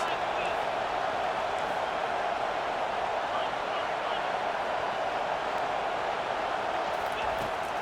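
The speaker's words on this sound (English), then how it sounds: "4th down, and this crowd is making it miserable on this offense." A stadium crowd roars in the video game College Football 25 at a football game, a steady, dense wall of cheering and noise at constant loudness throughout.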